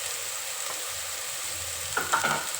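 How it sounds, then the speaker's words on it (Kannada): Sprouted beans stirred into onion and garlic frying in a pan: a steady, soft sizzle throughout, then a few clinking, scraping stirs near the end. "ಆಮೇಲೆ ಇದಕ್ಕೆ ಮೊಳಕೆ ಕಾಳು ಹಾಕಿ ಮಿಕ್ಸ್ ಮಾಡ್ಕೊಳ್ಳೋಣ"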